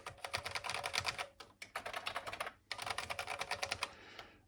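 Fast rhythmic clacking of keys being typed on an Amstrad home computer keyboard with shallower keys, coming in quick bursts with brief pauses between them, close and fairly quiet.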